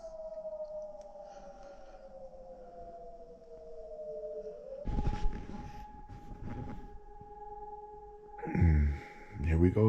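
An air raid siren during a civil defense alert in Kherson, Ukraine, at night winds down in a long, falling wail, followed by a steady tone and sudden close rustling and knocking.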